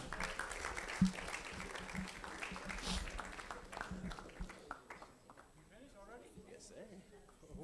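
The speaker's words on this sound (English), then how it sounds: "Let's give him a round of applause." Audience at a youth conference applauds as a pastor is welcomed up, a steady wash of clapping for about five seconds that thins out, with voices and chatter continuing underneath.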